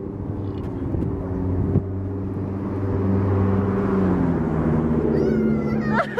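A truck passes close by outdoors, making a loud, steady low engine rumble that swells and holds for several seconds.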